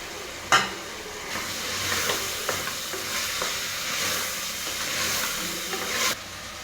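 Dal sizzles in a hot pan while being stirred for a Kongu-style arisi paruppu rice dish. The frying is close and continuous, with a sharp clatter at the start and scraping stirs throughout, and no one speaks.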